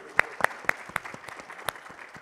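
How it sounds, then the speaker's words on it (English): Sparse clapping from a small audience at a community session in Portland: a handful of distinct, sharp claps spaced irregularly over a quiet room background, rather than a full round of applause. "Can we get a round of applause?"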